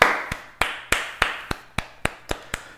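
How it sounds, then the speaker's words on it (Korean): Sharp, evenly spaced claps in a church-history lecture room, about nine crisp beats in a steady rhythm, close and clear with nothing else behind them. "자, 박수"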